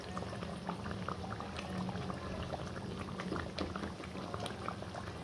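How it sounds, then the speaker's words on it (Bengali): Mughlai paratha frying in hot oil in a pan, a steady dense sizzle and crackle with small popping bursts throughout, close and continuous with no voices. "এভাবে ভাজতে হবে, অল্প তাপ বেশি তাপ যেভাবে বানানো যায়"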